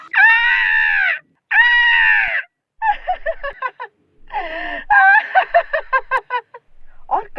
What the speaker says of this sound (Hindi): अब उसे किसी के चीखने की और रोने की आवाज सुनाई देती है।